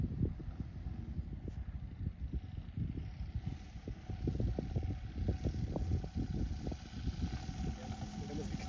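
A Sportsmann model airplane with a 3W157 engine runs on the ground at a steady, rough, crackling buzz, heard at moderate distance with people talking over it.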